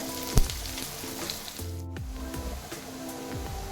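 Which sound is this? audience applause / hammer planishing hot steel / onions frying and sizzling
onions frying and sizzling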